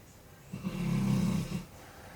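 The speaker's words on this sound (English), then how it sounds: "That's my dog snoring." A sleeping dog snores once indoors, a low rumbling breath rising and fading over about a second, fairly faint and close.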